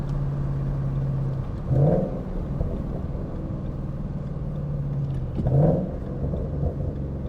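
A Ford Mustang GT with a swapped H-pipe exhaust idles with a deep steady rumble and gives two brief throttle blips, heard from inside the car with no talk.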